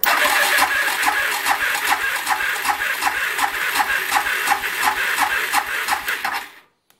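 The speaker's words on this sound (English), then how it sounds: "Open the throttle again, flip the starter." A Suzuki DR650SE motorcycle engine cranks steadily on its electric starter during a compression test, an even rhythmic chugging of about twenty beats, loud and close, cutting off abruptly at the end.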